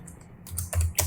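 Quick close-up typing on a computer keyboard, a short run of crisp key clicks growing louder toward the end.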